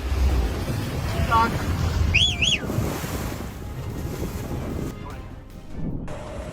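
A runaway unmanned vessel spins at high speed on the open sea, its engine droning under rushing waves and heavy wind buffeting, with brief warbling sirens or whistles in the middle and voices faintly present.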